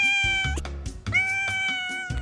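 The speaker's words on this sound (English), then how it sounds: "Who wants to see my tiny new cat?" A tiny new kitten meows repeatedly at close range, three or four clear, high, drawn-out cries separated by short pauses.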